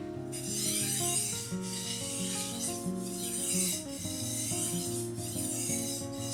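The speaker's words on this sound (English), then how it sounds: "It's gonna be less coarse sounding when you're sharpening." A kitchen knife is drawn repeatedly across a sharpening stone in steady, rhythmic rasping strokes, close and fairly loud, with no talking.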